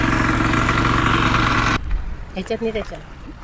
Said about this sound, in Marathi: हे आमचं ट्रॅक्टर फायनली आतमध्ये येलेलो